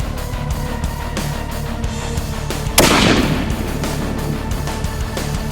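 A single shot from a Barrett 98B Tactical rifle in .300 Win Mag, a sharp loud boom partway through that rolls off into a fading rumble, set against steady outdoor background noise with no talking.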